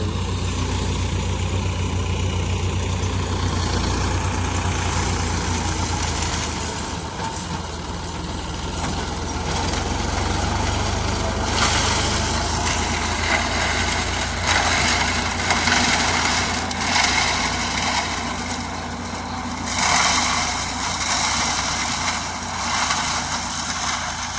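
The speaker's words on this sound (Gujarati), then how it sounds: "ફૂંકણી ચાલુ છે અત્યારે" A tractor-driven farm blower runs steadily in the open field, its engine drone and whirring fan noise continuous and fairly loud throughout with slight surges, no voices.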